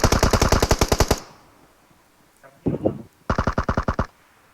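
Automatic gunfire in the mobile battle-royale game PUBG Mobile: a loud rapid burst of about a dozen shots, a short pause with a brief noise, then a second rapid burst of around eight shots.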